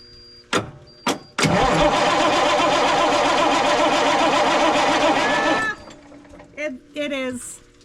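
A small engine fires for the first time on starting fluid, with a few sharp cranking bursts, then a loud, steady running roar for about four seconds before it cuts off, followed by brief nearby talk.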